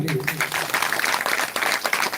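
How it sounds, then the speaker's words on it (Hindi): Loud, sustained applause from an audience at a live Hindu devotional Manas katha recital, dense clapping filling the whole stretch with slight swells. "एक बार जोरदार ताली"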